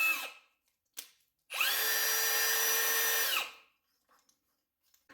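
A Parkside Performance 20V cordless brushless drill (PABSP 20-Li) spins up with a sharp rising whine, holds a loud steady high-pitched hum for about two seconds, then winds down, framed by brief clicks before and after.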